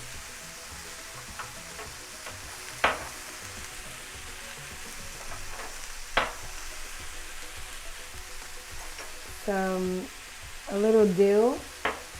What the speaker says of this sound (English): And while that's sauteing, I'm gonna throw some rosemary in there.